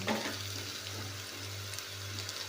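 Ginger garlic paste sizzles steadily in a pan while being fried for a tomato cauliflower curry, a constant close crackle with a low hum beneath and a few faint stirring knocks.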